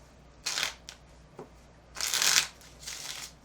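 Cards are riffled and shuffled in three quick bursts, close and crisp against a quiet room.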